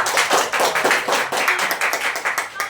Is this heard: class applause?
yes